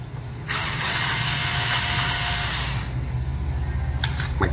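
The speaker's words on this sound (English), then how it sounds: "My cordless screwdriver, it's not a drill." A cordless screwdriver backs out hard drive caddy screws in an HP TouchSmart laptop, its motor whirring loudly and steadily for several seconds, then a short second burst after a brief pause.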